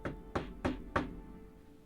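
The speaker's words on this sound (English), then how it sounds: "You knock at the door." Four evenly spaced knocks on a door, sharp and close, each thud decaying quickly, with no voices.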